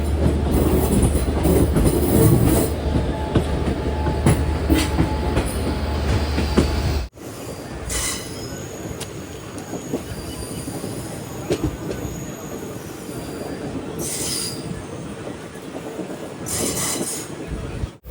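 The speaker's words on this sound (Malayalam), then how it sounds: "MGR ചെന്നൈ സെൻട്രലിൽ നിന്ന് കറക്റ്റ് 4:35 തന്നെ ട്രെയിൻ എടുത്തിരിക്കുകയാണ്" A passenger train pulls out of MGR Chennai Central bound for Tirupati, its loud rumble and wheel squeal filling the carriage, then continuing as a steadier rolling clatter with occasional high screeches.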